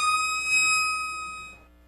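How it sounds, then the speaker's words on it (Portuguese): The Ponte Preta football club's siren holds a steady, bright tone with strong harmonics, then cuts off near the end and leaves a faint tail. "Essa é a Sirene."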